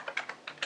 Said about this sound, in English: I guess my fingers aren't used to this keyboard too well